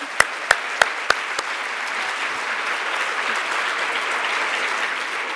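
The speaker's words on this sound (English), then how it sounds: "Just another round of applause for all of our panelists." Conference audience applause for a panel, sustained throughout, with several sharp close claps at the start over a broad, even wash of clapping.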